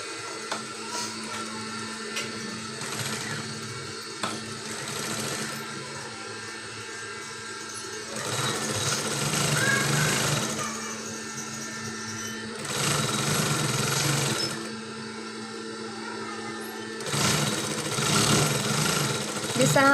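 Sewing machine running in bursts while stitching the sleeve of a small summer baby frock, a steady mechanical whir that swells louder in three or four longer runs with quieter handling between.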